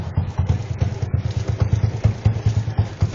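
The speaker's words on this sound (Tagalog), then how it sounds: "tinetesting yung ingay ng pipe" A motorcycle exhaust pipe being tested at an LTO office in Imus: an idling engine close by, with a loud, throbbing beat of rapid exhaust pulses that stays steady throughout and has no talk over it.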